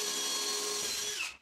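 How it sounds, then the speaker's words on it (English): A power drill bores pilot holes for screws into a live oak kitchen tabletop, a steady high motor whine running close and loud before spinning down and cutting off near the end. "here I am drilling those holes out, pre-drilling for those screws"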